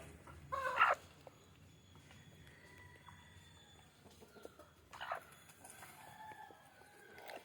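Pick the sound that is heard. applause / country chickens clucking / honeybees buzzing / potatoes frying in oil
country chickens clucking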